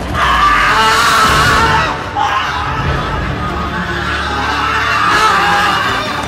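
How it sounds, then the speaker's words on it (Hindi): A man screams and yells loudly in a dramatized Hindi story scene, a sustained raw shout that dips briefly and then continues, close and harsh. "वो पागल उठा और चीख कर भागा वहां से।"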